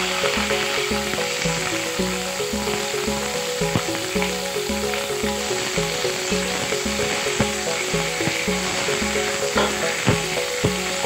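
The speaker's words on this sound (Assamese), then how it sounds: "এতিয়া এইখিনি হ'ল কোমোৰাখিনি আগত ভাজি উলিয়াম" Pumpkin pieces fry in a hot wok with a loud, continuous close-up sizzle and crackle, over a faint steady tonal hum in the background.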